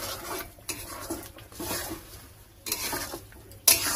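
Jackfruit and prawns with salt and turmeric being sautéed in a pan during village-style cooking, with irregular close scraping and stirring clatter over a soft sizzle and a sharp metallic clink at the end; no talking.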